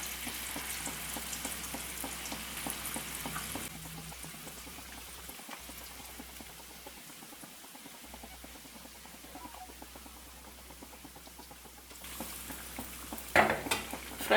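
Chicken pieces fry in a pan with a soft, steady sizzle and crackle, faint and close, with occasional stirring or clinking near the end and no talk.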